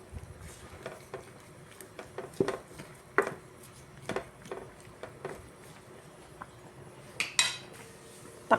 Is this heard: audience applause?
no